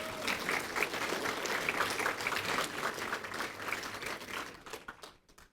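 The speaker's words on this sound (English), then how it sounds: "So round of applause for that group" Conference audience applauding a research partner group at a Long Point biosphere conference, a dense sustained round of clapping that fades out near the end.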